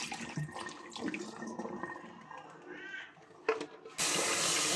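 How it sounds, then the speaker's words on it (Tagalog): Water running from a tap while the cleaning water is changed during sofa cleaning, clattering handling noises giving way to a loud steady gush of running water in the last second. "Palitan namin yung tubig"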